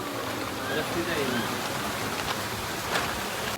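Steady rain pours over a bridge in a monsoon setting in Uttara Kannada, Karnataka, a dense close patter with a few brief splashes, while a voice speaks over it.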